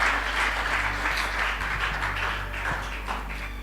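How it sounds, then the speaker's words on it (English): Applause from a church congregation at a sermon gathering, a steady patter of many hands held at an even level for a few seconds, with no talk over it. "Can we clap our hand for it?"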